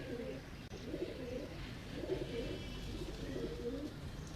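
Pigeons coo in soft, rolling bursts at a large rooftop pigeon-keeping setup in Rawalpindi, with several birds heard close and steady over quiet background noise.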